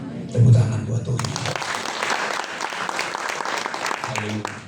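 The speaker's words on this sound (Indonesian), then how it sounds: "Tepuk tangan buat Tuhan." A church congregation applauds during a Pentecost Sunday worship service: a dense, sustained wash of clapping lasts about three seconds, with a voice briefly before it and again as it fades.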